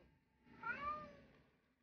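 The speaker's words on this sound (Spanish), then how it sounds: "Mi gato está queriendo entrar al cuarto, pero no lo puedo dar entrar." A pet cat meows near a door, wanting into a room during a session of The Lord of the Rings: The Battle for Middle-earth; a single fairly faint, drawn-out meow over quiet background hum.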